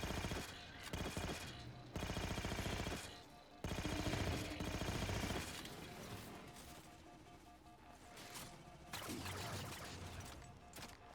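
Gunfire from a bolt pistol that turns into a shotgun in the video game Halo 4, loud rapid bursts of shots with crashing impacts in a busy battle mix, pausing briefly between volleys.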